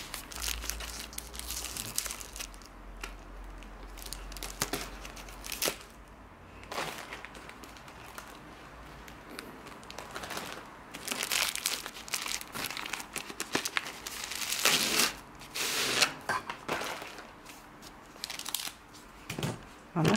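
Plastic wrapping of a 50 by 50 diamond painting kit crinkles and crumples as it is pulled open, a busy run of close rustling, tearing and crunching with brief pauses.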